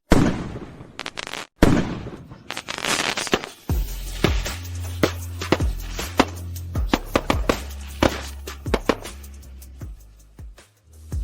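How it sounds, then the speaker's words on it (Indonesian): A fireworks display put on as a surprise, with a rapid string of sharp bursts and crackling pops over a low booming rumble, close and loud and continuing throughout. "Rachel dari kelas sebelah mengadakan pertunjukan kembang api untuk pacarnya"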